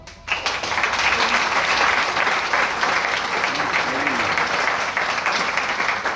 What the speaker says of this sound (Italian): Un grande applauso a Filippo Papa.